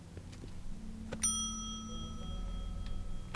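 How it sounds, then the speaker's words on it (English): Service bell on a shop counter in a video game, struck once with a bright metallic ding that rings out and slowly fades over a low steady background hum. "Let's just ding the bell."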